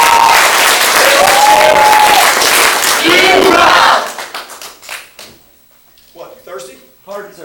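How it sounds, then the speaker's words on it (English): A crowd at a family martial arts center belt ceremony in June 2013 bursts into loud, sustained applause with cheering for about four seconds, then it drops away and voices talk over a quieter room. "Give him a big round of applause."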